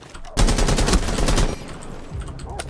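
A rapid burst of automatic gunfire from Rainbow Six Siege rattles loudly for about a second, followed by quieter scattered shots and faint background sounds.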